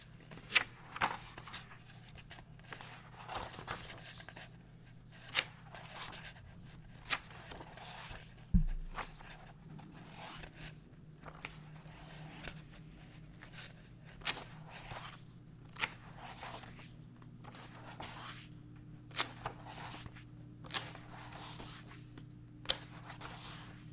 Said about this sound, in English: I hope you enjoy the page turning.